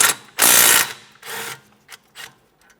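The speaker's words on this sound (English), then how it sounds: "we're going to remove a 12mm bolt holding the brake flex hose bracket in place" A ratchet wrench backs out a 12mm bolt on a brake flex hose bracket of a 2015-2019 Subaru Outback: a loud burst of clicking, then a few shorter ratchet bursts that fade, with no talk.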